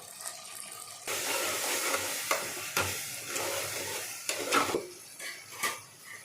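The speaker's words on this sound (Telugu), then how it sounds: "ఇప్పుడు టమోటాలు వేసేస్తాం." Tomatoes drop into a pan of frying ginger-garlic paste for a fish curry, and a sudden burst of sizzling follows, with spoon scrapes and metal clinks as they are stirred, close and without speech.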